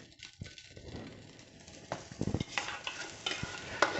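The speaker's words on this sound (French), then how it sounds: "je vais faire revenir l'oignon avec la carotte" Onion and carrot sautéing in a pan after browning beef shank for osso buco, a close sizzle with repeated scraping stirs of a spoon, rising into brisk crackling toward the end.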